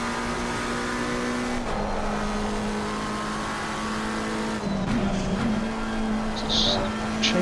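A McLaren 720S EVO race car in Assetto Corsa Competizione, its engine holding a steady loud drone with a gear change and brief tire squeal midway, continuous and close.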